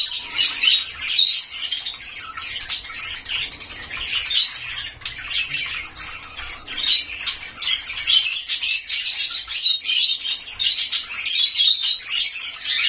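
A pet bird being hand-fed squawks and chirps close by in a steady, insistent stream of shrill, begging calls that continue throughout, with no voices heard.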